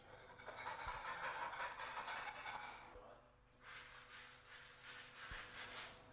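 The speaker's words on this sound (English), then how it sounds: "Remove any loose flaking paint with a scraper." A scraper rasps steadily across previously painted timber in long strokes, removing loose flaking paint, pausing briefly before the scraping resumes, close and fairly loud.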